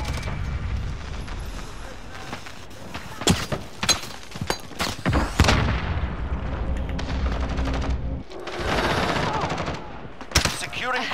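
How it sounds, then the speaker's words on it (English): In Call of Duty: Modern Warfare, a thermite grenade is thrown during a hardcore Domination match on Shoot House, amid loud bursts of gunfire, cracks and booms, with a player talking over the chaos. "Throwing thermite!"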